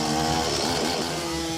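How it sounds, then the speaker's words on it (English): A chainsaw cuts through a tree stump and its tough root system, a loud, steady, buzzing engine whine that holds throughout with no pauses and no voices. "Even upgrading to a chainsaw."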